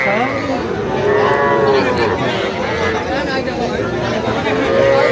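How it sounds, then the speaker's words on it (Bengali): Young bull calves moo at a busy cattle market, loud drawn-out calls close by over a steady murmur of crowd chatter. "সুন্দর বাচ্চা ষাঁড় বাচ্চা আমরা দেখছিলাম"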